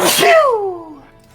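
A single loud, close sneeze with a sharp burst and a trailing tonal tail, in a casual indoor setting.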